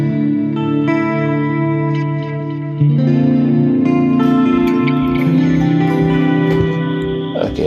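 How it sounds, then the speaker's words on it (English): An electric guitar runs through the Terra Echo preset on a Boss GT-1 multi-effects unit, giving sustained chords with shimmering chorus-like echo and reverb tails; a fresh strum lands partway through, and no one speaks. "Let's try the Terra Echo and see"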